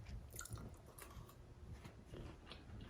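Close, crunchy chewing of toasted bread pudding with wet biting and crackling bites, steady and continuous over a few seconds, no talking.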